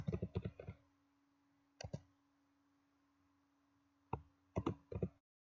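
Short bursts of keyboard typing, a few quick keystrokes, a pause, then more clustered taps, close and clear over a faint steady hum.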